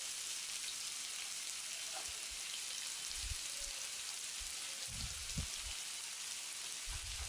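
Chopped onions fry in hot oil for a Telugu egg dish, giving a steady, even crackling hiss with a few soft low bumps from stirring, and no voices.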